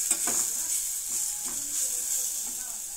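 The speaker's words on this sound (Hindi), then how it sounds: "मैंने यहाँ पे थोड़ी सी पत्ता गोभी डाल दी है इसके अंदर, हल्का सा इसे भी भून लेना है।" Shredded cabbage sautés in a hot pan for vegetable lollipops, a bright steady sizzle and hiss with a few soft stirring scrapes, close and even throughout.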